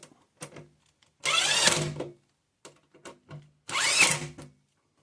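Two bursts of a power drill whirring as it drives screws into a kitchen drawer, each about three-quarters of a second, separated by clicks and handling noises, close up.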